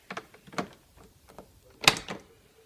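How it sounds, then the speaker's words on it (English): A car door opens up close, with a few soft clicks and mechanical clunks followed by a sharper latch release near the end; the car has a lock that works only with a key. "And this is when you open the door."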